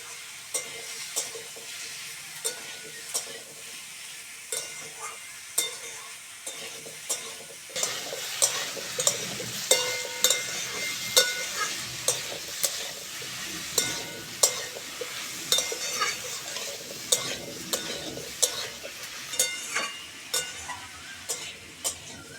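Mixed vegetables for a Bengali lau shukto, with bottle gourd and tender neem leaves, fry in a pan with steady broadband sizzling, and repeated spatula scrapes and stirs tick through it, getting busier and louder partway through.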